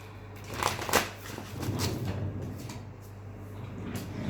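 Tarot cards are shuffled by hand in a quick run of papery riffles and rustles, close and fairly quiet, over a low steady background hum.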